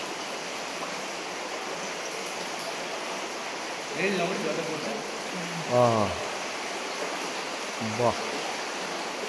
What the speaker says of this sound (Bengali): জল পড়ছে ওপর থেকে